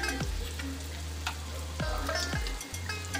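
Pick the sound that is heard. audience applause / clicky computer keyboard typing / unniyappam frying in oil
unniyappam frying in oil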